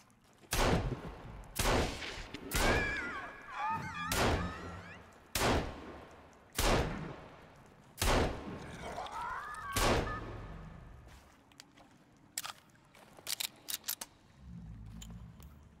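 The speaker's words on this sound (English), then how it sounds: "Let's test the pistol." Pistol shots ring out in the survival video game Sons of the Forest, roughly seven sharp reports spaced a second or two apart, with faint game ambience and small clicks between them.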